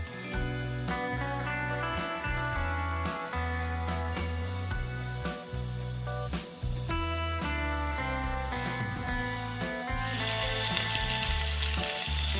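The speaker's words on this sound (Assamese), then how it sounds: "তেলখিনি গৰম হোৱাৰ পাছতে মই মাছখিনি এপিচ দি পিনি এইখিনি ফ্ৰাই কৰি লওঁ" Fish pieces sizzle and crackle steadily in hot oil during an Assamese home recipe, a continuous loud frying hiss with occasional stirring clatter and tonal background music, brightening near the end.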